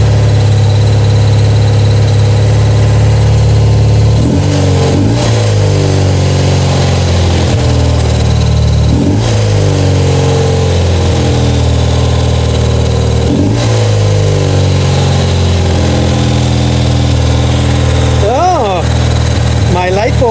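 BMW R90/6 motorcycle engine running with the choke on, a loud, close, steady idle broken by several throttle blips that rev up and fall back over about twenty seconds.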